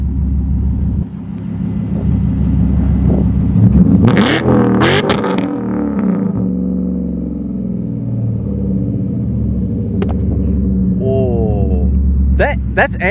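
A BMW V8 swapped into a rear-wheel-drive Volkswagen Mk3 Golf GTI idles with a deep rumble, then is revved hard in a few sharp blips before settling back to a steady idle, loud and close, with voices talking over it.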